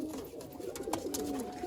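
Punjabi Malwai pigeons coo softly at close range, a low wavering murmur running steadily through the moment amid light background noise, without speech.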